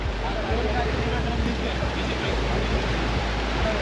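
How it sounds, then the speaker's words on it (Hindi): Fast-flowing water of the Indra Canal rushes past at the dam, a loud, steady roar of broadband noise with low rumbling underneath, continuous and close, with no speech over it. "और पानी की आवाज़ आपको सुनाई दे रही होगी।"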